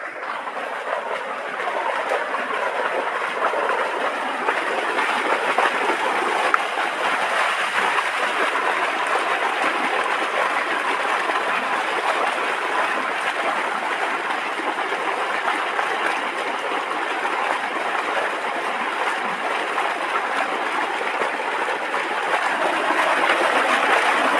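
A steady, continuous rushing of water mixed with a mechanical drone, unbroken for the whole stretch, from a motor pump forcing water through a pipe to irrigate a pond.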